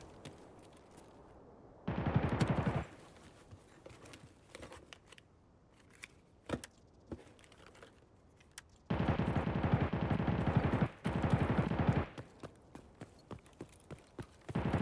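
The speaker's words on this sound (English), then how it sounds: "A lot of shooting going on." Bursts of automatic gunfire in Escape from Tarkov erupt in two long rapid volleys with scattered single distant shots between them, loud and rhythmic against quiet surroundings.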